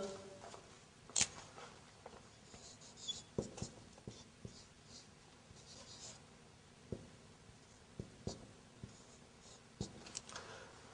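Chalk or marker on a board during an Arabic language lesson: faint, scattered scratchy strokes and taps arrive in short irregular bursts with quiet pauses between them.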